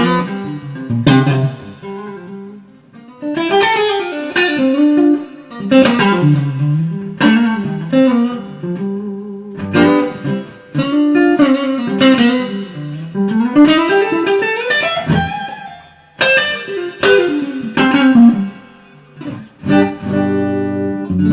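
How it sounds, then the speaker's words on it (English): Harley Benton TE20 electric guitar on its neck pickup through a Fender solid-state amp, playing a fluid melodic run of picked notes and slides with short pauses, loud and close, no talking. "first time I'm plugging the TE20 into my Fender solid state amp and it sounds like this neck pickup"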